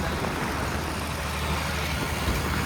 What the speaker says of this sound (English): I slow the tractor down for him.